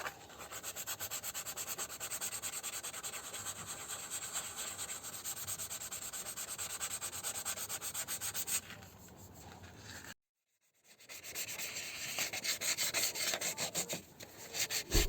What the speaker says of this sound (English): Keep sanding down till the area is level and smooth.